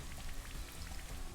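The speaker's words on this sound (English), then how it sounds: "Indeed, here comes the rain." Steady rain from the Rain Dance move in Pokemon Shield, a dense hiss of falling drops pattering on a surface that fills the short stretch alone, with no voice over it.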